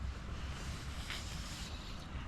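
Steady wind rushes and buffets the microphone at an outdoor wild campsite, a broad roaring hiss with a brief gust swelling in the middle, no voices.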